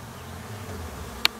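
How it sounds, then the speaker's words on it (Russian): Honeybees working around their hives on a rural homestead after a night of heavy rain give a faint, steady low buzz over background noise, broken by one sharp click near the end. "Слышите? Вон пчелки как работают."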